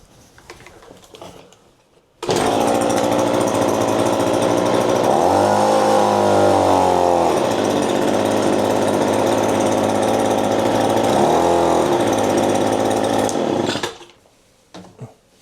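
Echo PB-2520 gas leaf blower engine running loud and close for about twelve seconds, a harsh steady two-stroke whine that rises twice in short revving bursts before cutting off abruptly into quiet.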